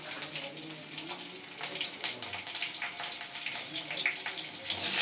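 Crushed garlic and nigella seeds sizzle in hot mustard oil as onion goes into the pan, making a close, continuous crackling spatter that grows slightly louder toward the end.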